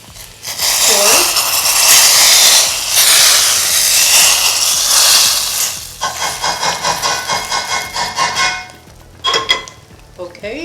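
Hot golden-brown tempering for vegan dal poured gradually into the pot, giving a loud, broad sizzle and hiss that holds for several seconds, then breaks into crackling, spattering bursts that fade toward the end.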